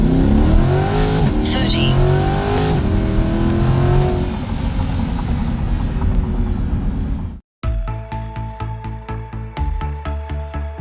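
Chevrolet C8 Corvette 1LT with an upgraded exhaust accelerating hard from a stop, engine revs climbing through rising harmonics, then a brief gap before a chiming rhythmic tone; voices talk over it.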